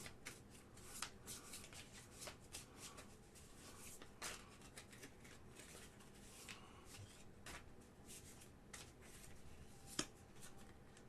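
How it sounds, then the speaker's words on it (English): A deck of cards being shuffled during a tabletop game session, soft riffling and rustling with scattered sharp clicks, fairly quiet and close with no talking. "And give it a nice little shuffle."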